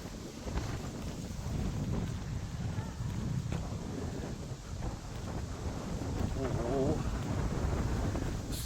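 Outdoor wind gusting and buffeting the microphone in a steady, rumbling roar that lasts throughout, with brief voices underneath.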